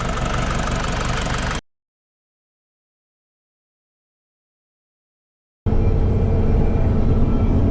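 An old American car idles with a steady, loud low rumble close by, in two stretches separated by a few seconds of complete silence.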